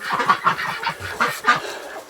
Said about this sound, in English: They're quacking. So hopefully it's excitement.